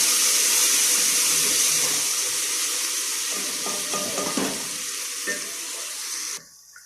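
Onions frying in a pot with garlic, ginger and green chili paste make a loud, continuous sizzle. Stirring adds clatter midway before the sound cuts off abruptly near the end. No one speaks.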